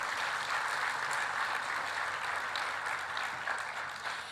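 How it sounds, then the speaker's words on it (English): Summit audience applauding to welcome a panelist, a steady wash of many hands clapping heard from a distance, moderately faint and even throughout. "Let's give him a round of applause as he comes."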